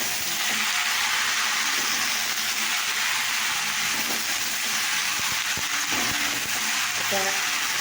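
Peas and bottle gourd frying in oil with bay leaf and cumin, a dense continuous loud sizzle filling the clip, with faint utensil knocks toward the end and no speech.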